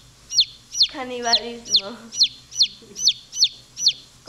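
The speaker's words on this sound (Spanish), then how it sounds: "Es un chicken." Repeated high-pitched chick peeps from a young chicken, about ten evenly spaced calls, close and fairly loud, with someone speaking Spanish briefly over the middle of the sequence.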